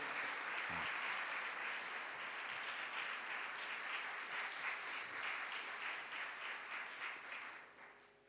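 A church congregation at a New Year Mass applauds with a sustained, even wash of clapping that is fairly faint and roomy, then tapers off near the end.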